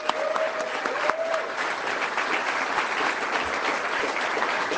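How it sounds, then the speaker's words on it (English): Audience applause at a Conservative political rally, a steady, dense patter of many hands clapping at moderate volume, with a brief tonal whistle or cheer early on. "Give her a round of applause"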